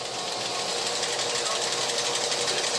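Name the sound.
high-powered polisher buffing silicon wafers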